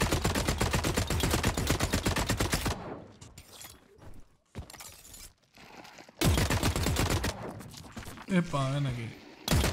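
Rapid automatic gunfire from The Cycle Frontier, long loud bursts of evenly spaced shots at the start and again later, separated by quieter gaps, with someone speaking briefly in between.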